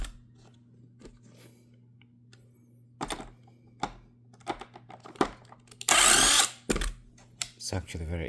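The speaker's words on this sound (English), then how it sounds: "So I just need to I need to open all the bolts." Bolts are opened on a vacuum cleaner with a small power driver, giving several short bursts of whirring and clicking amid quiet gaps, one longer loud burst near the end, and a low steady hum beneath.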